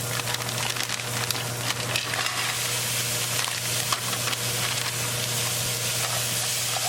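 Corn kernels tossed into a hot spiced tadka and stirred: a steady, close frying sizzle with scattered scraping and crackling, no voices.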